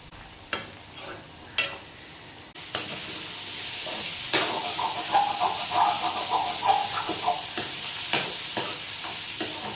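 Curry leaves hit hot oil for Tamil kuzhambu gravy, a few sharp knocks followed by a loud, steady sizzle and hiss with crackling spatter, close by and without talking.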